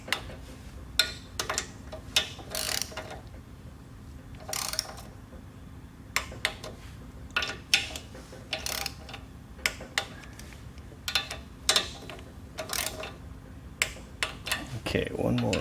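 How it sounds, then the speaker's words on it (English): A torque wrench set to 60 inch-pounds tightening the valve cover bolts on a Briggs & Stratton engine, with sharp ratcheting clicks in short irregular bursts, close and crisp, as a person talks quietly between them. "I've got a torque wrench set for 60 inch-pounds, which is what my manual calls for the correct torque on these"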